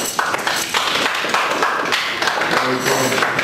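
Applause from a telethon audience greeting a performer, a steady wash of many hands clapping at moderate distance, with a few brighter taps and faint voices underneath.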